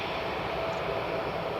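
An Airbus A321neo's engines roar at an airport in a steady, broadband jet rush that stays loud and even throughout, with no voices.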